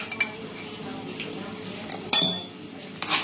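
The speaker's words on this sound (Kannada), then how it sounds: "ನೀರ್ ಹಾಕಿ ನಾವು ಸ್ವಲ್ಪ ಮಿಕ್ಸ್ ಮಾಡ್ಕೋಬೇಕ್ರಿ ತೆಳುವಾಗಿ." A spoon stirs tomato ketchup and water in a bowl, giving light scraping clinks against the dish with a sharper pair of knocks near the end, close and fairly quiet with no talk.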